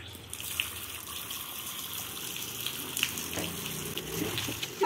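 Tap running at full flow during a hair wash, a steady hissing gush of water with small splashes and knocks throughout, close and continuous with no speech.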